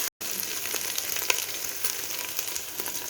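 Ginger garlic paste fries and gets stirred in a pan with golden onions while making keema karela, a steady soft sizzle with faint scraping stir sounds and a brief gap near the start.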